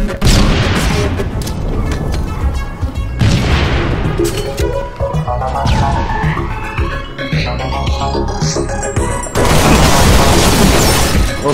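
Loud, dense gunfire and booming explosions from a Halo Reach free-for-all match, with rapid bursts, heavy blasts and sweeping effects crowding together throughout.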